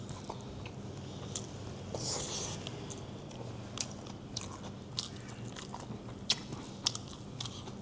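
Someone eats a nasi ganja rice meal with chicken and meat, with quiet bites and soft crunchy chewing close to the microphone, scattered clicks over a low room hum.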